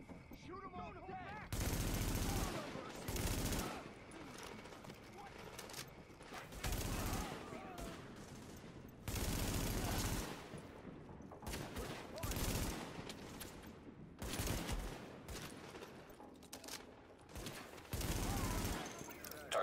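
Repeated bursts of rapid automatic gunfire from Tom Clancy's The Division, loud and close, alternate with quieter stretches that carry voices and game sound.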